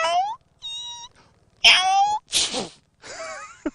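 A person imitates a cat with a series of about five separate meows. The calls are short and nasal, rising and falling in pitch, and each one is separated by a brief silence.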